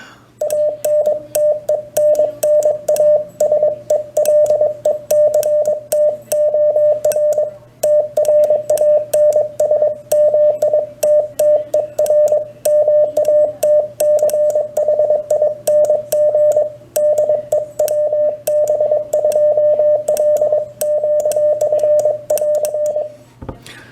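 Morse code keyed on a single lever paddle comes through as a clean, loud sidetone beeping in rapid dits and dahs. It runs steadily for the whole stretch with only short pauses between characters.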